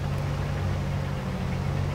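A combine harvester's engine runs in Farming Simulator 22, droning as a steady, loud low hum with no change in pace, and no one speaks.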